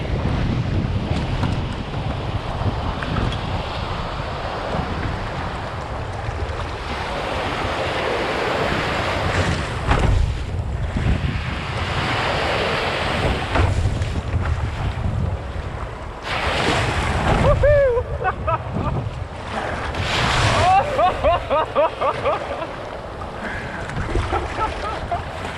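Big swells and strong wind on a rough lake, recorded from a fishing boat on the world's biggest lake: a continuous roar of surf and wind buffeting the microphone, with water slapping against the hull and a faint voice now and then.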